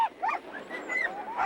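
Sled dogs kept for dog mushing in the Athabascan village of Tanana, with a close dog yelping and whining in short, honking, whimpering calls, with a faint voice underneath.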